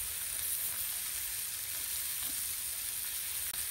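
Garlic and onions sizzle in a pan with mushrooms, a steady, close hiss of frying fat that holds evenly throughout, with a faint clink near the end and no talk.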